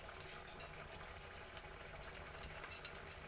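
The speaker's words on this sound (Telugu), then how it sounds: "పోపు కోసం తాలింపు వేసుకుంటాం" Cumin, dried red chilies and mustard seeds tempering in hot oil in a kadai make a faint, steady crackling sizzle with small pops and no voices.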